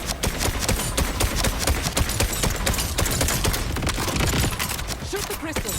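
Rapid sustained gunfire rattles continuously in Borderlands 4 as crystals are shot, a dense loud barrage of overlapping shots throughout the stretch.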